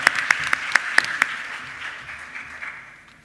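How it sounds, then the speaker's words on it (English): An audience at the ArabNet Beirut 2018 Creative Combat Competition claps for team Media Monsters, opening with several sharp, distinct claps over a steadier patter that gradually thins and fades. "Please give a big round of applause for Media Monsters."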